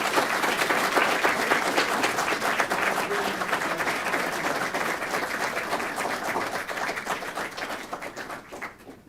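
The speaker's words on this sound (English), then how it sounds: "Big round of applause" A council meeting audience breaks into a loud, sustained round of applause, dense clapping from many hands close to the microphone that holds for about nine seconds before tapering off at the end.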